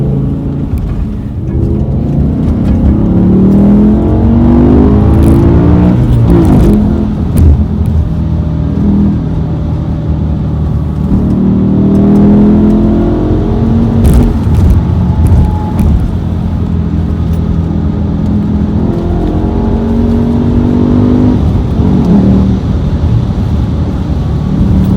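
A BMW E60 M5 engine drones and pulls through acceleration from inside the car, a loud sustained roar that rises and falls over several pulls with no talking.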